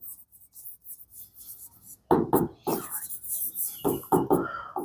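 Marker or chalk scratches across a classroom board while a maths solution set is written out, faint scraping strokes at first, then continuing under a teacher's voice.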